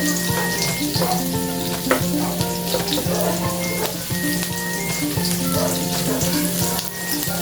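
Onion and garlic sautéing in a pan for ginisang patola with chicken, a constant close sizzle with scattered crackles and a faint tonal hum in the background, no speech.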